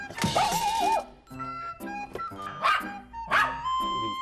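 A Spitz and its housemate dog bark excitedly as a trainer visits, firing off repeated sharp barks and yips in quick irregular bursts, close and fairly loud.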